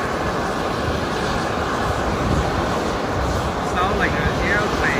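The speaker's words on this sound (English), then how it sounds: "Sounds like an airplane or a jet." A steady, broad roar of an airplane passing overhead with wind rumble, and a few faint bird chirps near the end.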